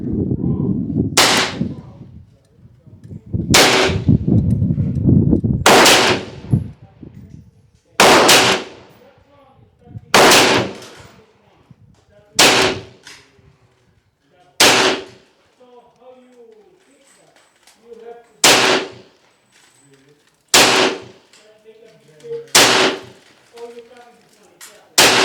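A series of sharp, loud defensive airgun shots fired with iron sights at a target, about a dozen cracks spaced a second or two apart, with talk running under the first few and short pauses between the later ones.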